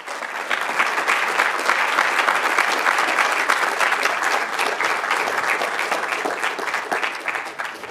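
Sustained applause from an audience at the close of a student design charrette presentation on a bison bridge, dense and steady clapping throughout with a slight easing toward the end.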